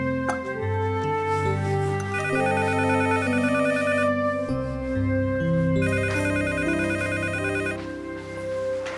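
A musical ringtone plays steadily, a bright electronic melody repeating its phrases without pause, with no talking over it.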